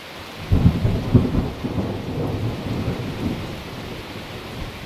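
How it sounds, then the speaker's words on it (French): Thunder rumbles low and heavy over a steady hiss of falling rain, the rolling booms fading into continuous downpour. "a vraiment peur du tonnerre d'ailleurs"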